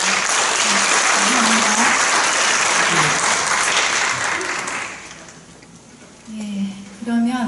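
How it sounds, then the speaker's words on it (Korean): Audience at a dance studies conference applauding presenters, dense sustained clapping for about five seconds that fades out, followed by a brief spoken acknowledgement. "큰 박수 부탁드립니다."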